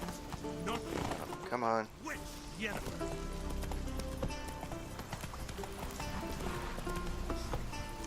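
A horse gallops in The Witcher 3 video game, with rapid clip-clop hoofbeats and a whinny up close while someone talks over the game sounds and music.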